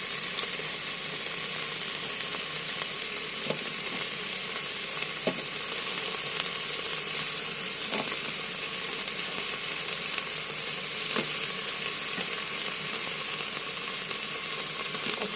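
Garlic, onion and ginger fry together in hot oil, giving a continuous bright sizzle that stays even throughout, with a few faint stirring clicks and no talking.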